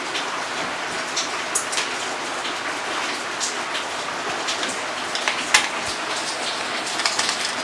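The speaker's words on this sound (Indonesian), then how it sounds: "suaranya agak ada kresek-kresek gitu karena prosesnya sekarang sedang hujan" Steady rain patters and hisses continuously, with scattered crackling drops close by and no voices.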